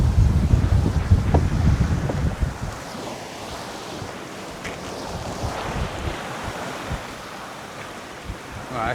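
Moderate sea waves and wind heard from a sailboat on the way to Porto, steady surf wash and rushing wind buffeting the microphone, louder at the start, then a continuous even hiss and splash with no talking.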